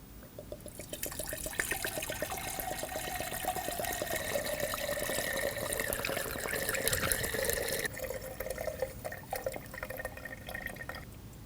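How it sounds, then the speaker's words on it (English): Coolant glugs and trickles through a funnel into the new coolant reservoir of a 2015-2024 Ford Edge 2.0L four-cylinder, a steady close pour with bubbling gurgles that thins to drips near the end. "Now I'm going to use a funnel and pour the coolant from our old reservoir into our new one"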